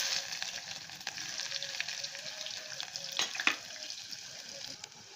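Mustard seeds, cumin and onions fry in hot oil for a Nagpuri Saoji vadi-vangi curry, making a steady crackling sizzle. A few sharp pops and stirring clatters stand out, louder around the middle, with no speech.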